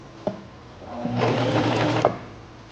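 A Singer Simple sewing machine sews forward a few stitches, a short close burst of rapid whirring stitching lasting about a second, framed by small clicks before and after.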